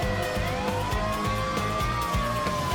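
Wailing siren sound effect woven into a protest song, a long rising and falling tone sweeping steadily over a pulsing, repetitive beat throughout.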